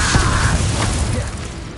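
Fiery spell blast in Hogwarts Legacy: a dense, roaring burst with a low boom at the onset, holding steady and loud across the short span before easing slightly, no speech over it.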